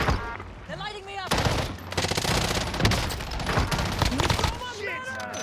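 Rapid gunfire bursts in the video game Warzone, loud clattering volleys and automatic fire coming in waves, with a player talking over parts of the shooting.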